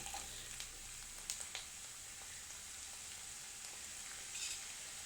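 Ginger frying in hot oil for an Indian ginger-tamarind pickle, giving a continuous soft sizzle with a few sharper crackles and pops, fairly quiet and with no voices.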